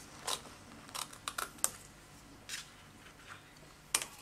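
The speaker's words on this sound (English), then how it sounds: "I'm going to cut that off." Scissors snipping through card, a handful of short crisp cuts spaced irregularly across a few seconds, close and fairly quiet with no talking.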